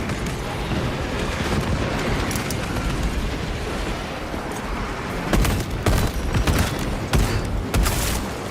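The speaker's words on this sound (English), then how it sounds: "Throwing frag grenade!" A frag grenade blast and gunfire from Space Marine 2 form dense, loud battle noise. Several sharp booms and cracks hit near the end over a constant roar of combat.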